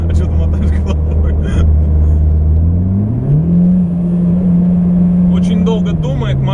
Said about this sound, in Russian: Очень долго думает мотор, прежде чем ускориться.